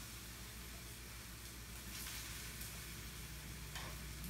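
Plantains frying in a pan give a steady, dense sizzle close by, unbroken and fairly quiet throughout, with no voices.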